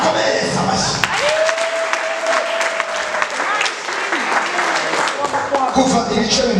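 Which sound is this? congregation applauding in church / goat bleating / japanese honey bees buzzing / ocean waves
congregation applauding in church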